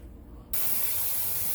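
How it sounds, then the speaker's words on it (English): Steam hisses from a pressure cooker while beans are being canned, starting abruptly after a brief quiet moment and then holding as a loud, steady, broadband rush close by. "My steam has been coming out of here, I know, about 10 minutes now."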